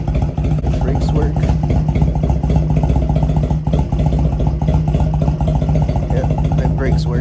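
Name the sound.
1986 Honda Rebel motorcycle engine idling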